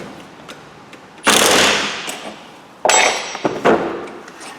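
Impact wrench fired anti-clockwise on the alternator pulley of a Vauxhall Corsa D 1.3 CDTI, two loud rattling bursts of about a second and a half each, close up, with a brief pause between.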